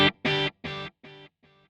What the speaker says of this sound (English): Now, if I bring the mix up of that delay, it sounds like this.